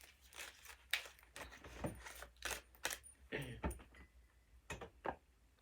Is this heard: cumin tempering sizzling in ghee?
no